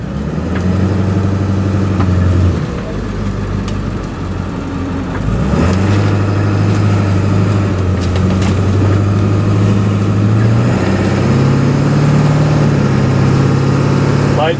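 A Ford 7.3 liter diesel engine fitted with water-methanol injection runs under light throttle on low boost, a steady, loud, low droning rumble with small shifts in pitch as the revs change, continuous throughout.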